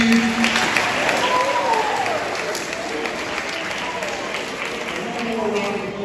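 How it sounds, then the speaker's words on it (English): Crowd applause at a 2024 graduation ceremony, continuous clapping from a large audience filling the room at steady strength, with a few voices calling out above it. "Let's give a round of applause for Mr."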